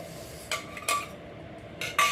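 A spoon clinks and scrapes against a metal bowl while roasted semolina is stirred for rava ladoo, giving a few light, close taps and scrapes at an uneven pace over a quiet background.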